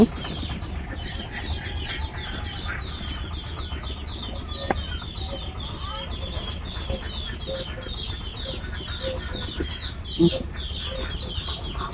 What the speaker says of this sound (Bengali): এটা বড় চীনা হাঁস এটা হলো মধ্য হাঁস আর এটা হলো মাইগ্যা না এটা ছোট এটা চীনা হাঁস এইটাও চীনা হাঁস